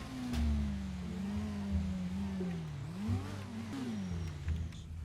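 A video-game car engine hums close and steady as the car drives up to park, its pitch rising and dipping with light revving over about five seconds.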